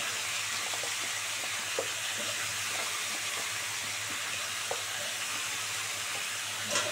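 Mixed vegetables for chorchori sauté in bhetki fish oil, a steady, even sizzle and hiss running unbroken throughout, with occasional faint clicks of stirring.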